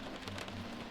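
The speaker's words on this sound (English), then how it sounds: "I can hear the rain outside, like, tapping on the interior" Rain in the video game Daggerfall Unity patters steadily against the outside of an interior, a soft, dense, continuous tapping under a low hum.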